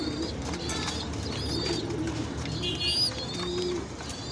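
Pigeons coo softly in a loft or breeding room, with steady low murmuring calls and faint chirps over continuous background noise, no talk.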